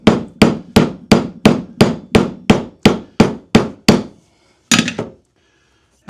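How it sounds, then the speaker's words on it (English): A hammer pounds a caulking tube resting on an anvil with about twelve sharp, evenly spaced blows, loud and close, then a pause and two final quick strikes. "I'm going to put it on my anvil here, and I'm going to pound on it to try to loosen that stuff up."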